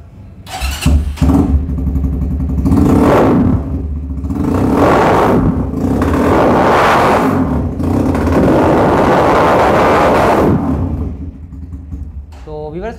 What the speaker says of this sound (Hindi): आफ्टर मार्केट एग्जॉस्ट है, बड़ा अच्छा साउंड होता है इसका भी।